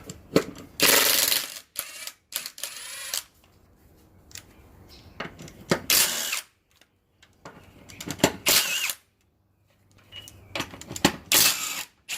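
An impact wrench spins off the 17 mm lug nuts on a Polaris 850 in several short, loud rattling bursts separated by quiet pauses.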